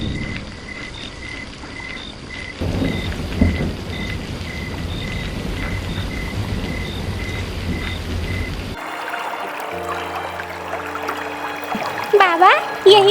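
Heavy rain and thunder in an animated cartoon about a crow family: a steady, loud wash of downpour with a faint repeating tone over it, shifting later to other sounds and voices.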